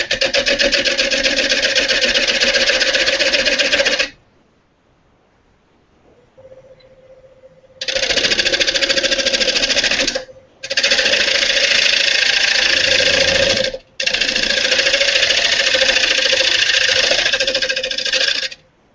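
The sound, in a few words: wood lathe turning bowl bottom, tool skipping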